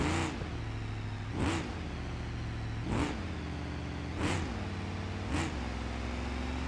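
A drag car in the BeamNG video game launches off a ramp with a steady, loud engine drone. Rhythmic whooshing swells repeat about every second and a half as the car accelerates, with no talking.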